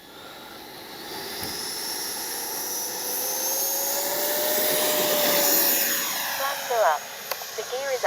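Freewing F-4 Phantom II RC jet on its takeoff run, a steady whining jet drone that swells and rises in pitch, then fades as it pulls away, with voices faintly in the background.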